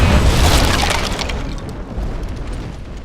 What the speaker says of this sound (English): The mortars!